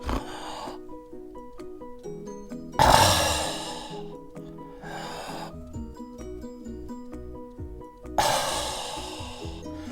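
A voice imitates sleep apnea breathing: two loud, rasping gasps separated by quiet stretches, over soft background music.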